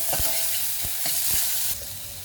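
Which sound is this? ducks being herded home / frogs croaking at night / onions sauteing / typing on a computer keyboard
onions sauteing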